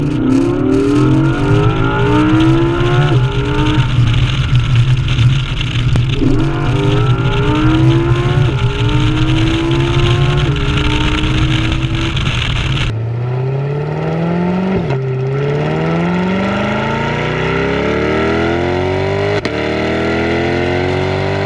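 A C8 Corvette exhaust blares up close as the engine revs repeatedly, pitch rising and falling with each gear, then settles into a deeper, lower-pitched drone.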